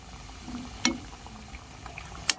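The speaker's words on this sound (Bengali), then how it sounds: "গ্যাসের ফ্লেমটা লো আর মিডিয়ামের মাঝামাঝিতে রেখে বিস্কুটগুলোকে ভেজে নিতে হবে" Homemade biscuits fry in oil over a low-medium gas flame, giving a soft, steady bubbling sizzle at close range, broken by two sharp little pops.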